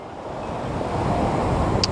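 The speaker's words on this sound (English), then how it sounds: "come on, we need a largish wave to come in and around, just like this." Ocean waves roll in on the shore, a steady broad wash of surf with wind noise, close and fairly loud, with no talking.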